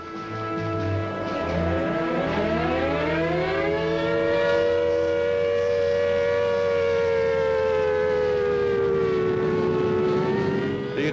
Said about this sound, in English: Everyone waiting for the sirens to start up and then dash off for the shelters.